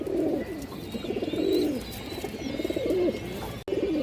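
Pigeon cooing up close, from a fancy breed kept in a loft: repeated low, throaty coos rolling in a steady rhythm, with faint chirps from other birds behind.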